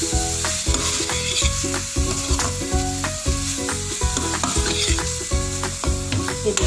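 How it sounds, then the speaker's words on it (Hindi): Vegetables sizzle steadily in a hot pan for a chicken vegetable macaroni dish, with a loud continuous frying hiss and repeated rhythmic scrapes of stirring close by while music plays underneath. "सब्जियाँ अच्छे तरीके से मिक्स हो रही हैं।"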